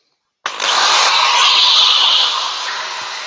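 A power sander runs steadily on a workpiece, a dense broadband whine starting abruptly and holding loud and close, easing slightly toward the end, with no talk over it.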